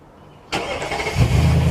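A 2021 Nissan Titan pickup truck starts itself by remote start: quiet at first, then the engine cranks and catches with a sudden burst, settling into a loud, rumbling idle close by.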